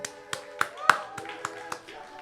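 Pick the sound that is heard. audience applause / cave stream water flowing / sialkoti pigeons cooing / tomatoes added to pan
audience applause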